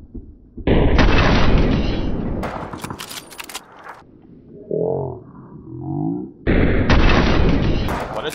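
Sniper rifle fire in the battle royale game PUBG, heard as loud, sharp booming blasts at the start and end with reverberant tails and quieter mid-clip thumps, no talk.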